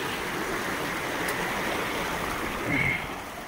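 Clear water of a mountain stream on a monsoon trek rushes in a steady broadband wash, close and continuous, with a brief brighter splash near the end.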